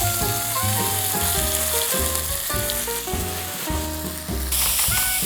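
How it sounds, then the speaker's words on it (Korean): Marinated meat for japchae sizzles loudly in an oiled pan, a constant close crackle broken by rhythmic scraping and stirring knocks about every half second. "팬에다가 기름을 두르고 고기 양념해 놨던 거"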